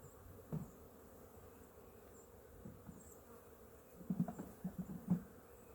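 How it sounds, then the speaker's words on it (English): Honey bees buzz around an opened beehive, faint whining drones with several closer, louder passes near the face toward the end. "now they're starting to buzz my face."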